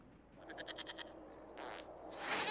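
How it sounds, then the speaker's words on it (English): A goat bleats in the fantasy role-playing game Dragon Age: Inquisition, a quick, wavering series of bleats followed by a couple of shorter calls. It sounds moderately close and quiet, with no talking over it. "we discovered this man attacking the building with a"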